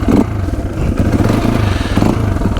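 A KTM 250 EXC-F four-stroke enduro motorcycle idles loud and close with a steady, lumpy thrum, its rhythm wavering slightly as if about to stall, with no talk over it.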